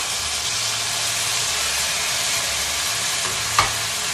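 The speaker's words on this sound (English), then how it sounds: "And they're sizzling up because there's some moisture still in them." Mushrooms sizzle in a risotto pot over low heat, giving off a steady, close frying hiss that holds evenly throughout, with a single soft clink near the end.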